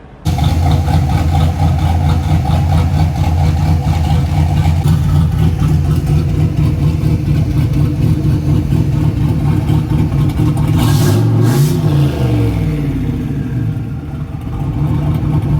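A crew cab truck's engine runs at a car wash, a loud, steady, low idle filling the whole stretch, with a brief rev swell near the end before it settles back to idle.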